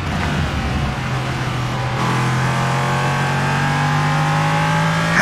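A Ligier LMP3 race car's 5.6-litre engine in iRacing, a loud, close, continuous roar with rising pitch as it accelerates through the gears, no talking over it.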